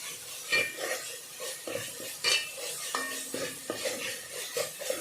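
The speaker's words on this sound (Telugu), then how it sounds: "జాగ్రత్తగా మనము దీన్ని కలుపుకుంటూ ఉండాలి" A utensil stirs and scrapes food in a cooking pot, likely ginger-garlic tempering for rice, with repeated clinks and scrapes against the metal over a soft sizzle, close and moderately loud, no talking.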